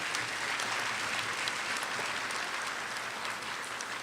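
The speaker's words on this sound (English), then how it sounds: "A round of applause for OT students" An audience at an honors recognition ceremony applauds students, a dense, steady wash of many hands clapping from start to finish without a break.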